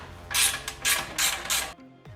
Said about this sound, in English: There's another clamp here that connects the head pipe to the cross under piece, so we can go ahead and loosen that clamp up